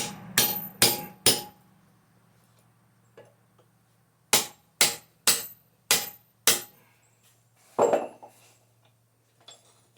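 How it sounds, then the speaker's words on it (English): A metal can held in a vise is struck with a hammer in sharp, loud ringing blows: a quick burst of three, then five evenly spaced strikes, a heavier thud and a faint final tap, with quiet gaps and no talk. "I'm going to move it out a little bit further in the vise so I get a better smack on its metal."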